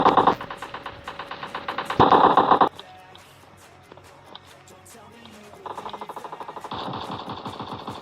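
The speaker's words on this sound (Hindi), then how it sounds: "मेरे सामने की तरफ ही बंदे को फायरिंग का साउंड आ गया" Automatic rifle bursts from PUBG Mobile Lite gameplay, rapid repeated shots in two loud volleys separated by a quieter stretch, then sustained fire again toward the end; no talk.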